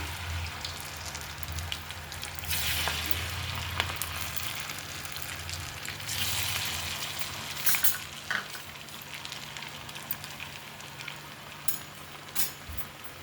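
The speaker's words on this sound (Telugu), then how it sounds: "ఇందులో కరివేపాకు ఉంది కదా, అందుకే టప్టప్లాడుతుంది." Curry leaves sputter and sizzle in hot oil, a steady loud frying hiss with scattered sharp pops and crackles close by.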